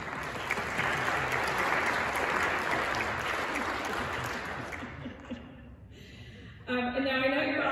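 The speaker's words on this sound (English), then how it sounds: "So round of applause to all of you." Applause from the audience at a cultural industry legislative dinner, a dense sustained clapping that fills the room for about five seconds before fading, followed by a voice speaking over the PA.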